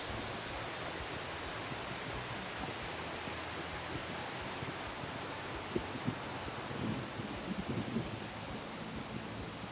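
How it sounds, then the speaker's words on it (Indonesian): Constant broadband rushing of a waterfall at a campground in Ciwidey, Bandung, a steady roar with no voices and a few faint knocks near the end. "Ternyata di Nyampai juga ada air terjun, guys."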